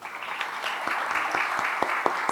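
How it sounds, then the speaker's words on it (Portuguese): Steady, dense applause from an audience at a literary talk event in Paracatu, continuous clapping filling the room without voices. "palmas para vocês."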